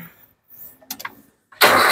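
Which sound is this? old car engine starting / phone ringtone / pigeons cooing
old car engine starting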